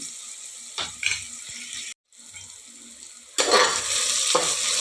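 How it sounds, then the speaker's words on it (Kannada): Food sizzles and fries in a pan during a quick breakfast dish, a steady broadband hiss with a few stirring clatters, a brief pause, then the frying rises louder near the end. "ಸ್ವಲ್ಪ ಫ್ರೈ ಆಗಲಿ"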